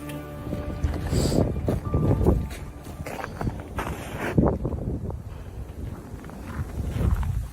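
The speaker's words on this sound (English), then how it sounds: "we can clearly hear the sound of his footsteps" Footsteps of a man walking alone, a series of soft irregular steps over about seven seconds, mixed with gusty wind noise buffeting the microphone.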